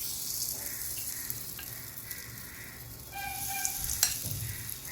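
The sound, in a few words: spoonfuls of gram flour batter frying in hot oil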